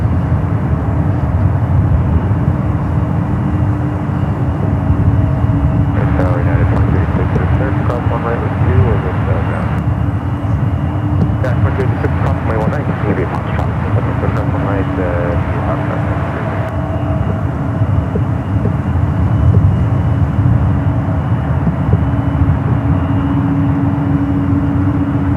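A United airliner taxis out toward runway 28 at San Francisco airport, its engines a steady loud roar through the whole stretch with a sustained low drone, while voices talk intermittently over it.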